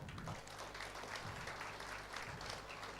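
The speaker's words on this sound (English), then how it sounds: "A round of applause everyone." Audience at a company silver jubilee celebration applauds, a faint, diffuse, steady clapping wash heard from a distance for a few seconds.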